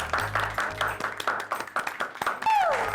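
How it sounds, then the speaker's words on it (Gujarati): Audience applause for Meeraben after her song on a TV game show, a run of claps with background music tones and a rising whistle-like tone near the end. "મીરાબેન માટે જોરદાર તાળીઓ થઈ જાય"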